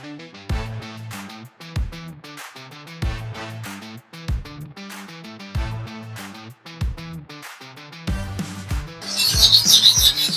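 A knife blade is rubbed back and forth on a sharpening stone in short, repeated strokes, with a musical backing running under the scraping throughout.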